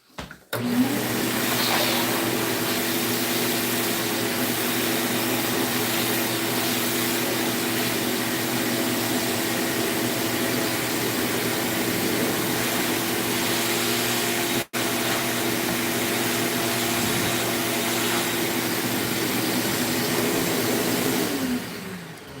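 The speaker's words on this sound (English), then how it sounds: "I'm just going to vacuum that off." A vacuum cleaner runs loud and steady for about twenty seconds, a broad roaring whine over a low motor hum, dipping for an instant once partway through, with no talking.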